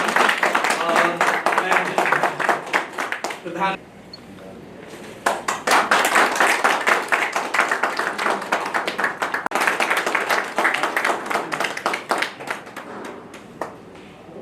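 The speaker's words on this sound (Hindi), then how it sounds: "जोरदार तालियों से स्वागत अभिनंदन।" Audience clapping at a felicitation ceremony honouring a gold medal winner, dense sustained applause with a short lull midway, someone speaking over it at times.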